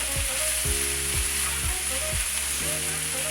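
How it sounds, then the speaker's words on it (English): Loud, dense sizzling of chicken frying in hot oil, a continuous close hiss with a low rhythmic clunking repeating underneath. "you hear that nice frying?"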